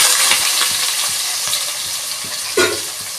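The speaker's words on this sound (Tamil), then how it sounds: "நல்லா பொரிஞ்சதும் வெங்காயம் போடணும்." Onions fry in hot oil for a South Indian fish curry, a bright steady sizzle close by, with light stirring taps and a brief clink near the end.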